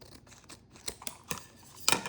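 Scissors snipping through ribbon while shaping a fall bow, a handful of short crisp cuts spaced irregularly, the last one loudest, close and quiet with no talking.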